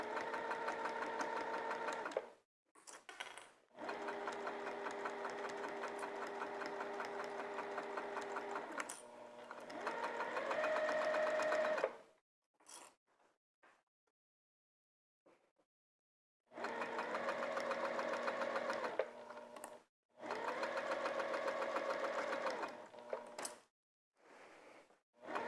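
A sewing machine stitches a curve in several bursts of steady, whirring buzz, stopping and restarting with short pauses and soft clicks between runs, close and fairly quiet.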